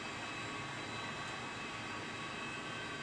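Boeing 737-800 engines produce a steady, loud broadband jet roar inside the flight deck near Heathrow on a touch-and-go landing, with no clear change in pitch over the short span.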